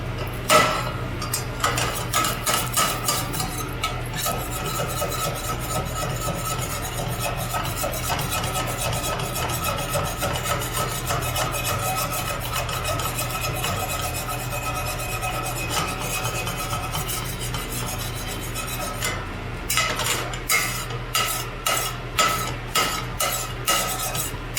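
Metal scraper rubbing and rasping across a cooking pan after burgers, a steady scratchy grind throughout with a burst of sharp rhythmic strokes near the end, no talk.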